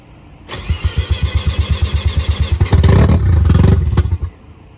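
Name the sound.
Mazda FC RX-7 Turbo II swapped engine starting up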